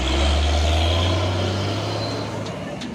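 An intercity AKAP bus pulls away, its big diesel engine a loud, steady low rumble close by that slowly fades as it drives off.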